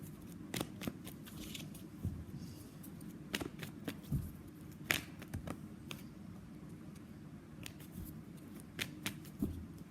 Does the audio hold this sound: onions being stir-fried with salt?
no